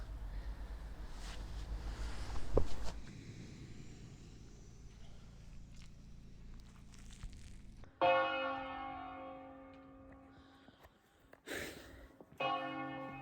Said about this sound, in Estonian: Hommikused kirikukellad äratavad üles.